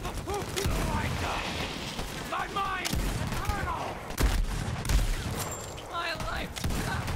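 Several sharp gunshots crack out in quick succession in Borderlands 3, while a voice talks over the shooting.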